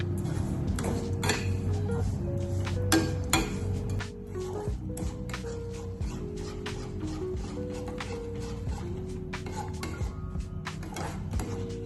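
A utensil stirs sugar and water for caramel in a pan, producing steady scraping and clinking against the metal with frequent sharp taps and no voices.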